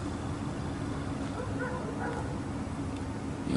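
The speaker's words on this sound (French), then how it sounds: "on a entendu les chiens aboyer comme vous entendez là" Several dogs bark somewhat far off, with a few short yips and barks in the middle over a low, steady background hum.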